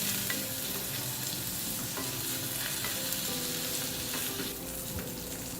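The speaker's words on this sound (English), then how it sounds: "Let's now fry this until the onion turns a light brown." Onions fry in a tadka pan for a Thrissur-style Kerala fish curry, giving a steady, loud, continuous sizzle with faint stirring scrapes and no voices.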